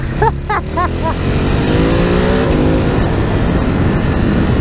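A 2019 Ducati Hypermotard 950 engine, reworked to favor torque, roars close by, rising in pitch as it accelerates steadily, with a brief voice at the start.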